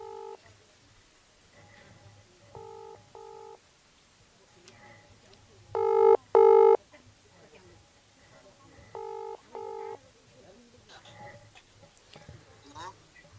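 Phone-call dialing tones beep in short paired bursts, with one louder pair in the middle, over a quiet background.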